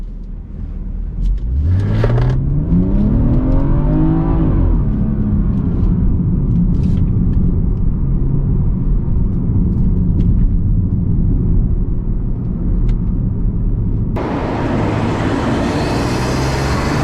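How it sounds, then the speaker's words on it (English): A BMW 340i xDrive with an N55 engine accelerates hard while driving, its engine note climbing steadily in a loud, continuous rising drone, then settling into a steady cruising rumble with road noise. "Such a smooth engine."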